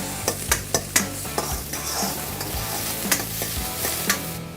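Chopped peppers and mixed vegetables stir-fry for veg fried rice, a steady loud sizzle broken by repeated scraping clatters of a spatula against the pan, alone without talk.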